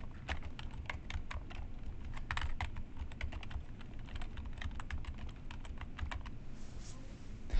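Fast, steady keystrokes on a computer keyboard, quiet and close, a continuous run of light clicks with no talking.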